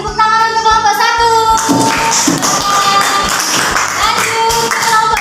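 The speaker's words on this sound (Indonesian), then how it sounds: "tepuk tangan untuk kelompok 1" Classroom students clapping for a group after its presentation, a burst of scattered hand claps that rises after a brief tonal passage and continues fairly loud and uneven.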